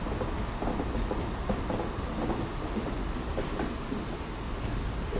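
A South Western Railway train, class 43 power car in new livery, leaves Bath Spa station slowly, giving a steady rumbling roll of wheels on track with faint clicks, heard close and continuous.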